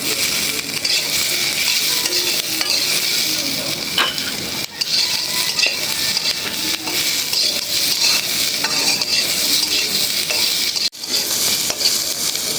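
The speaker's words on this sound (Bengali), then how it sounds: "পেঁয়াজ রসুনের সাথে কাঁচামরিচটাও ভেজে নিব" Steady loud sizzling of onion, garlic and green chilies frying in oil, with occasional scraping and clinks of a utensil stirring in the pan.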